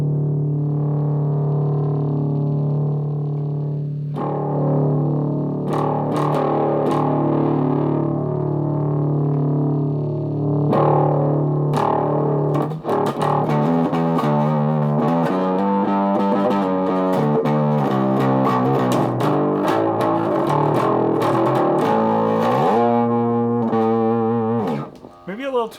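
An electric guitar played through a distortion pedal with heavy distortion, sustained chords giving way to busier, gritty riffing that rings out loud and thick.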